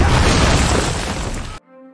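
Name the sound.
grenade explosion at a bunker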